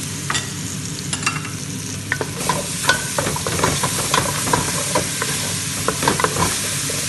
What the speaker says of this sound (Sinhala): සුදු ලුණු බැදලා සුවඳෙද්දි